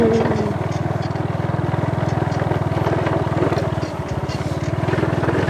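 A steady, rumbling engine idles close by, a low pulsing drone throughout with faint background noise and no speech.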